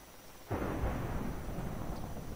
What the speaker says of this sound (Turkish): Şimşek çaktı.